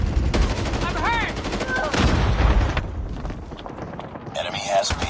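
Loud bursts of rapid automatic gunfire and explosions from a Call of Duty multiplayer match, dense cracking shots in the first half, then scattered, more distant fire, with in-game voices calling out over the action.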